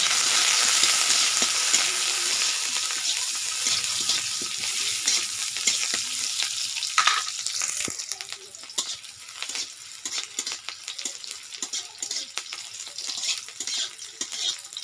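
Green chilies and onion hit hot oil in a wok and sizzle loudly, a dense, steady crackle that gradually thins into scattered pops, with occasional stirring and no voices.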